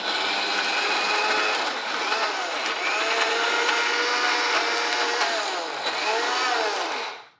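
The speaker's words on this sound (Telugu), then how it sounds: "కొద్దిగా నీళ్లు చేరుస్తూ మెత్తగా రుబ్బేసుకోవాలి." A kitchen mixer grinder whirs steadily as it grinds black gram chutney with a little water, a loud continuous motor drone with shifting pitch that cuts off abruptly at the end.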